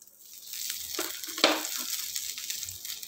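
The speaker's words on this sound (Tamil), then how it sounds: "கருவேப்பிலை நல்லா பொரியட்டும். வெந்தயம் நல்லா பொரியணுங்க" Mustard seeds, fenugreek and curry leaves frying in hot oil for a tamarind kuzhambu tempering, a close, steady sizzle with crackling pops and a sharper burst midway, no talking.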